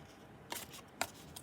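Two quick, crisp scissor snips cut through paper for a card box, spaced about half a second apart, close and quiet.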